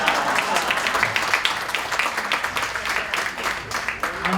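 An audience claps in welcome for a speaker at a RECON2018 education technology talk, steady scattered applause lasting throughout with a faint murmur underneath.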